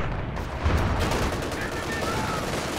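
Heavy mortar fire in Company of Heroes 2 during a 2v2 match, a dense low rumble of blasts and gunfire running steadily through the clip, with a louder thump near the start and a caster talking over it.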